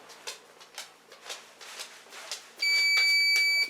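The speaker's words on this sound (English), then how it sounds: "I have a security camera system and it's beeping and it's been driving me crazy" A Lorex security camera system's alarm emits a loud, steady electronic beep that starts partway through and holds continuously to the end, after a stretch of soft rustling and handling noises.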